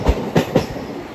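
A train on the Bengaluru to Sagar line near Birur junction runs over the rails, giving three heavy rhythmic clickety-clack wheel thumps close by, with no voices.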